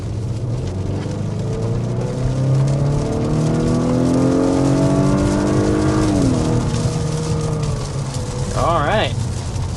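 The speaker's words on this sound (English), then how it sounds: "there we are, accelerating in this 2025 RDX" A 2025 Acura RDX with a 2-liter turbocharged four-cylinder engine accelerating, its steady engine drone rising through the gears with shifts midway, heard from inside the cabin under a constant road hum.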